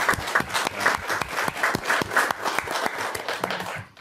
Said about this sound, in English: give a round of applause to these guys